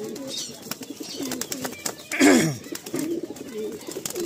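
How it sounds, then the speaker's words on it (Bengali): A male Kalanka pigeon coos in soft repeated rounds nearby, with one louder rising call partway through over quiet background noise. "এটা মেল পায়রা।"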